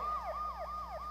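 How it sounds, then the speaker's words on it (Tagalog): A police car siren wails past in a repeating falling-and-rising sweep, loud and close, three cycles with steady traffic hum underneath and no talking. "Ayan na, may wangwang."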